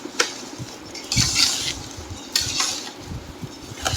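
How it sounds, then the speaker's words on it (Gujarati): Mango and gunda pickle mixture being stirred by hand in a pot for a Gujarati sour mango pickle, with a few bursts of scraping and mixing noise between quieter stretches, no talking. "જો હવે મમ્મી છે ને કેરી ને બધું મિક્સ કરતા જાય છે."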